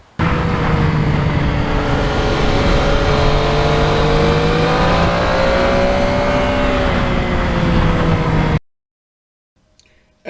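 A 2020 Yamaha MT-09 motorcycle on Michelin tyres rides along freshly repaved back roads, its engine droning steadily and loud with slowly shifting pitch and wind rush, before cutting to near silence at the end.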